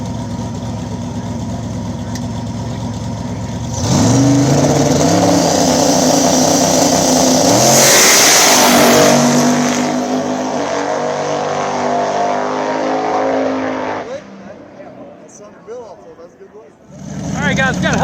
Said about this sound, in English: we got a broke by run for the twin Turbo Nova